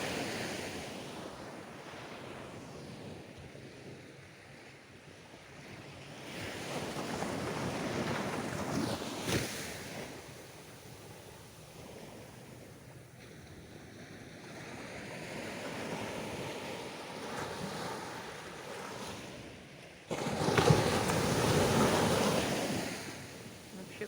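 Sea surf on Karon beach in Phuket, with waves rolling in and crashing in slow surges, one louder break near the end, under steady wind buffeting the microphone.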